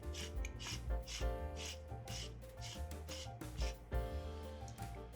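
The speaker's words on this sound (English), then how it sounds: "you can now slide the body back on, and then just screw it in all the way" Scraping, rubbing metal threads as the body section of a Parks Graflex 2.0 lightsaber with a Proffie v2.2 board is screwed back onto the hilt, a steady run of short rasping strokes, close and fairly loud.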